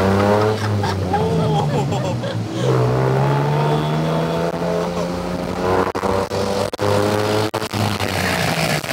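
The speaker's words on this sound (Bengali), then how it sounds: "থাইল্যান্ডের ফেমাস টুকটুকে। খুবই কিউট, সিএনজির মতো, বাট চারপাশে খোলা, জিনিসের সাউন্ড বুম বুম।" A tuk-tuk rides through Bangkok traffic with its small engine droning and revving close by, while a voice talks over it throughout.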